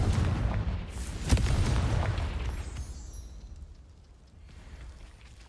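Confringo fire-spell blasts in the Hogwarts Legacy video game, a loud booming burst near the start followed by a rumbling, decaying roar that fades into quieter low rumble, with no talking.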